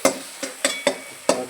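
Spice masala frying in a pan for goat curry, heard as five sharp spatula strikes and scrapes in an uneven rhythm over a soft sizzle, close and without talk.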